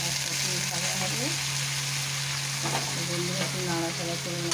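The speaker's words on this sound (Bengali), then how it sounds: "আলু আর পটল একসাথে ভাজা হবে।" Potatoes and pointed gourd frying together in a pan, a steady loud sizzle close by, with a voice heard faintly under it.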